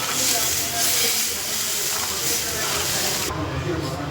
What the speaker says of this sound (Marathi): आता हे पीठ भिजलंय ना, ते पीठ टाकते मी आता.